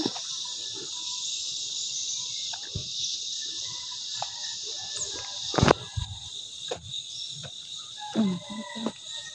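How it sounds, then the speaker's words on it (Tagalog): Crickets chirp steadily in a quiet spot during a walk. Their high, constant trilling drone is joined by soft scattered rustles and clicks, and there is no talking. "Kuliglig lang."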